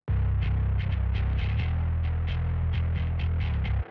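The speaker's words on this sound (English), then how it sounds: "that's only the bass sound for one section of the song" Layered rock bass guitar parts stacked into one thick, throbbing low tone, played in a steady repeated pattern with faint pick attacks on top, ending abruptly after about four seconds; no voices.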